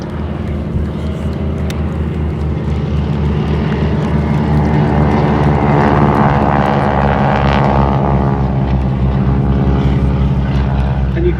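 Propeller aeroplanes perform a display at the IWM Duxford D-Day 80th anniversary airshow. Their loud, droning engines rumble continuously with a deep pulsing tone that swells slightly as they fly overhead.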